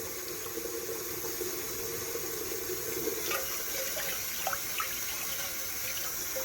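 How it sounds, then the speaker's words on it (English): Cold water running into a bowl to rinse rice, a steady continuous splashing stream, close and alone, with a few faint clinks near the end. "take some cold water, you fill up your bowl or whatever vessel you might have, and then you gently pour it out."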